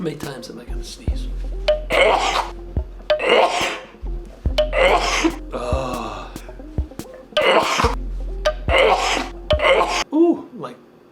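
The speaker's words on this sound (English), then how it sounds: "How many times am I gonna sneeze?" A person sneezes repeatedly during a pandemic: a series of loud, close sneezes with sharp intakes and bursts, about six in a row over ten seconds, each followed by gasping breaths.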